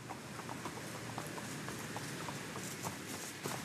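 Hooves clip-clop in a steady, quick rhythm against a hissing background, the horses moving along at a moderate distance.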